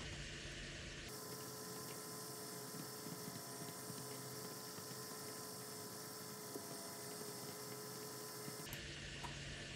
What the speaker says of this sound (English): Lovely turbo sound.